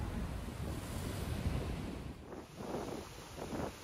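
Ocean surf pounds the rocky shore at Seixal Beach on Madeira, a rolling roar of breaking waves mixed with gusts of wind buffeting the microphone.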